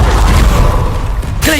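Confringo blasting spell fired in the video game Hogwarts Legacy: a loud, dense magical blast with rumbling low booms that fill the moment, followed by a brief voice near the end.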